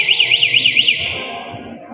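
An ECO 9 anti-theft motorcycle locator alarm, triggered from its remote to find a parked bike, gives a few rapid high-pitched warbling siren cycles that then trail off.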